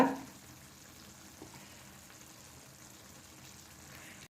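Fish coated in masala fries in a pan with a soft, steady sizzle throughout and a faint crackle at the start, no voices.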